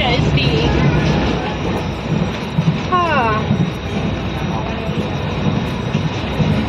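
A passenger train running between Jodhpur and Jaisalmer, heard from inside the carriage: a steady loud rumble with a brief squealing whistle in the middle, while people talk briefly over it.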